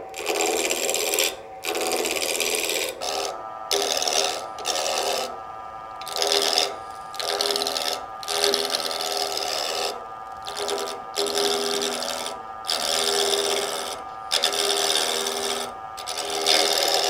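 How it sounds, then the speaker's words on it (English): A roughing gouge cuts wood on a lathe while a Christmas candle holder is being turned, giving a continuous close rasping scrape with brief rhythmic dips as the tool moves across the spinning timber. "with the roughing gouge, I'm going to be coming down the hill towards the centre of the piece"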